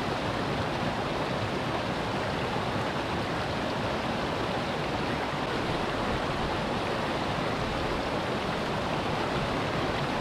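Small waterfall on a mountain stream in Nelson Lakes National Park, Aotearoa, giving a steady, dense rush of splashing water that holds an even, loud level throughout with no voices.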